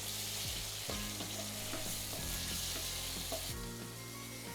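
Small chicken pieces frying in hot oil with ginger garlic paste, a loud, steady crackling sizzle close by, punctuated by a few clinks and scrapes of a spoon stirring in the pan, with no talking.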